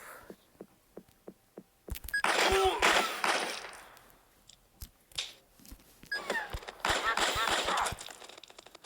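Gunfire in the video game Gun Blood: a rapid series of sharp, evenly spaced shots, then dense bursts of noisy firing that repeat after a pause, close and fairly loud.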